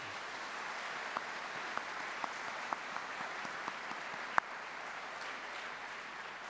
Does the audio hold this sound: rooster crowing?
no